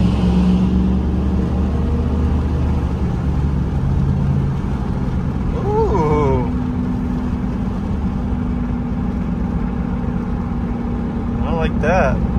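High-mileage second-generation Dodge truck pulling away from under a bridge, a steady low engine drone heard from inside the cab, running the whole time with brief squeaks and rattles and no clear rising rev.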